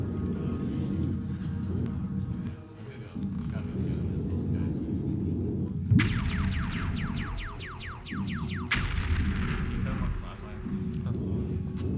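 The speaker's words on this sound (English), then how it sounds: "He has the superpower of being able to shoot laser beams very fast." Rapid laser beam shots fired by a gunner character in a student-made video game, heard as two quick bursts of sharp descending zaps over a steady low rumble of game audio.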